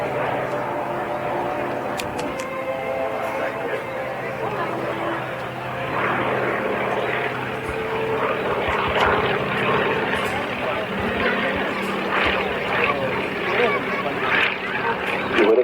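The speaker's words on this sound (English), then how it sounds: "this one first flew in 1934, taken into frontline Navy service in 1936 as the Swordfish" A Fairey Swordfish, a 1934 Navy biplane, flies overhead at the Swansea Air Show, its steady propeller engine drone carrying throughout beneath continuous announcer commentary.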